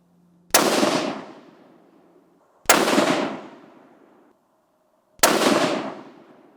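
Three loud, sharp hunting rifle shots fired from a bench at a target, each a sudden crack trailing into a decaying roll, spaced about two seconds apart with quiet between.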